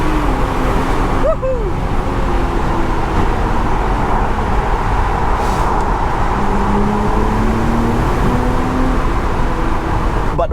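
BMW Z4 M40i driving through a tunnel, a loud steady engine roar with rolling road noise filling the space throughout; a person whoops briefly near the start.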